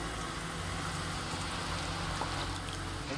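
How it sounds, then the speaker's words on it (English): Minecraft rain in a modded game, a dense, constant hiss of steady rainfall filling the scene at a loud, even level with no talk. "The rain is really loud, but I don't necessarily hate it."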